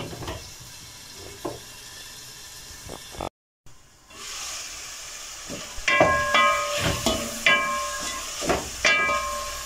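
Tripe simmering in a pot, a soft steady hiss and bubbling that drops out briefly, then returns louder with repeated clinks and scrapes of a spoon against the pot.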